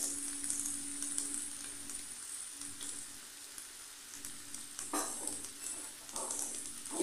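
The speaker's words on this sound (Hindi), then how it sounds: "इन सबको 1 मिनट तक मिक्स करते हुए भून लेंगे" Soy sauce, red chilli sauce, pizza sauce and vinegar fry in a pan while being stirred for chicken sliders, giving a soft, steady sizzle with a few scraping stirs, moderately close with no talk.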